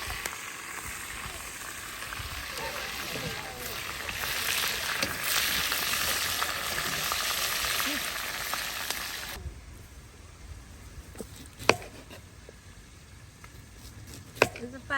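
Chicken cooking over a hot wood fire outdoors in the Jamaican bush, a steady broad sizzle and crackle that fades after a while, leaving quieter surroundings with a couple of sharp snaps near the end.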